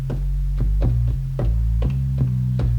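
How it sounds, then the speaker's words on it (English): A deep, booming bass sample from a Maschine sampler plays in a repeating pattern of sustained low notes with soft percussive hits on each change. "So basically I got this bass sound."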